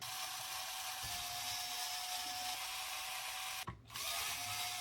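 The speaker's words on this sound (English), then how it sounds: "Now we're just going to take these 4 screws off the top here." A small power driver steadily backs screws out of the top plate of a 1/10-scale Rlaarlo XTS RC rally car, a thin continuous whine up close with one brief pause.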